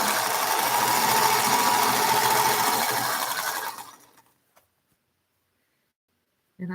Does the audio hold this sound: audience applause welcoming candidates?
no